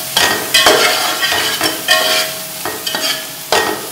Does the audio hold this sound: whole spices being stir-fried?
yes